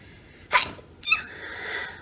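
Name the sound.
sneeze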